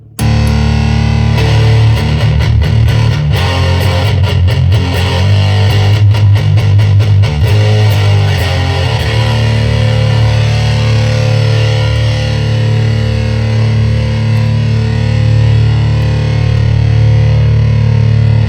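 An electric guitar played through an EHX Ram's Head Big Muff fuzz pedal, heavily fuzzed, starting with choppy strummed bursts and then ringing out into long, thick, saturated sustained chords.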